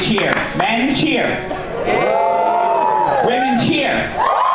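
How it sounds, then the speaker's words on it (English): Men in a theme-park special effects show audience cheering and whooping together, a loud, sustained crowd roar of mixed shouts and hollers that swells, dips briefly and rises again. "Men, only the men, you may cheer."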